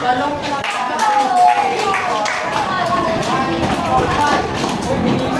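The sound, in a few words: group giving five claps and five foot stomps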